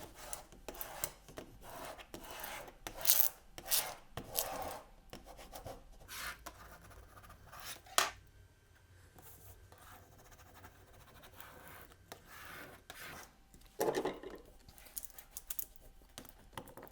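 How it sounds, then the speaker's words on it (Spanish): A spatula rubs and scrapes over adhesive vinyl on a Christmas tray, making soft, irregular rasping strokes close up, quiet and unaccompanied by talk. "Vamos a hacer que se pegue bien, dándole un poquito con la espátula"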